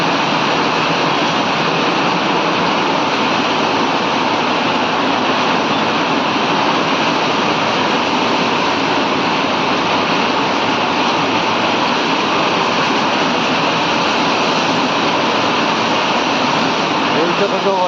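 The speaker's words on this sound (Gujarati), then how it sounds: "જોઈ શકો છો વરસાદ કેટલો બધો છે." Heavy rain pours during a storm in Anand, a loud, unbroken wash of hiss and roar that holds steady throughout.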